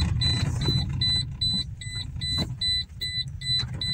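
Inside a Toyota Corolla GLi driving smoothly, a low steady road and engine hum runs throughout while a high electronic beep repeats at an even, rapid rhythm.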